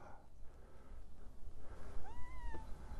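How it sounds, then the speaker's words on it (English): A house cat meows once, a short clear rising-and-falling call close by, outdoors on a windy prairie where seed is being planted. Steady wind noise runs underneath. "Hi, kitty."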